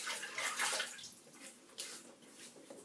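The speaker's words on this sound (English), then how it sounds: "I just wet my face slightly." Water splashed onto a face by hand during a wet shave with a 1916 Gillette safety razor and a DS Cosmetics shaving brush, heard as a few soft, close splashes and trickles of running water with no talking.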